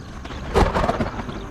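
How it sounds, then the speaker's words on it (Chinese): A single sharp thunderclap over dry grassland in March, late in the dry season, bursting loud and close and then fading into a short rumbling tail, with no voices. "随着一声雷响，他们纷纷跑回洞穴。"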